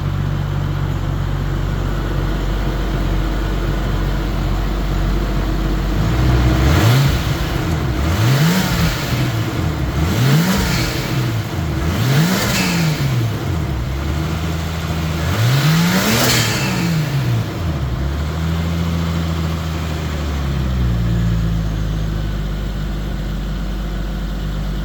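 A car with an RB25DET engine and a new Highflow 3076R turbo revs loudly and nearby over a steady idle, with five or six rhythmic throttle blips rising and falling before it settles back to idle.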